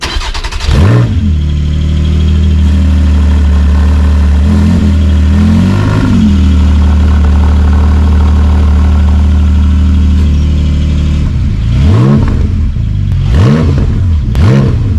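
A Porsche 718 Cayman GT4 with PDK gearbox and aftermarket exhaust runs up close and loud, a deep burbling idle with several sharp throttle blips near the start and again toward the end.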